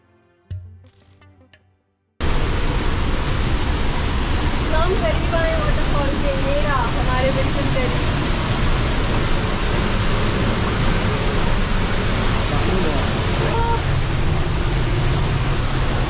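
Water pours steadily at Düden waterfall in Antalya, a loud, dense roar that starts abruptly after a brief quieter moment and then holds constant. Faint voices sit under the rush.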